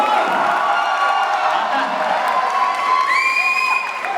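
Large audience in a grand hall at an Ugadi celebration shouting a sustained loud 'oh' together, with whistles rising over the crowd noise near the end.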